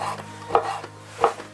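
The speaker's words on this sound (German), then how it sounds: "Ohne den Fleischwolf, einfach alles möglichst fein schneiden." A knife finely chopping venison on a board to make burger mince: two distinct, close chopping knocks with a faint background hum between them.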